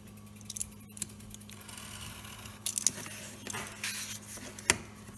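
An X-Acto knife with a basic blade slices around a tiny 1/12 scale dollhouse coffee package, making faint scratchy scraping strokes and a few sharp clicks at close range, with no voices.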